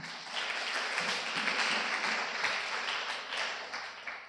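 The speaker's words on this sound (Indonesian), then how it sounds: "Kita tepuk tangan dulu dong buat pemateri." Audience members at a Islamic student discussion forum clap for the speakers in a short, dense burst of applause that swells and then tapers slightly, heard close and loud.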